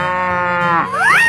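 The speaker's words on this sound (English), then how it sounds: "Cow." A cow moos once in a 3D animal slide video game, a loud close drawn-out bellow that rises and bends in pitch at the end.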